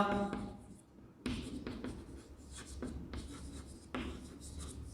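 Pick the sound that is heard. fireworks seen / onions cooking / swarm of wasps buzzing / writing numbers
writing numbers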